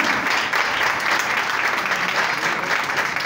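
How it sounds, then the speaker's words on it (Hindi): Loud, sustained applause from a church congregation fills the room as a continuous wash of clapping, with no break and no voices rising above it. "आपकी जोरदार तालियां।"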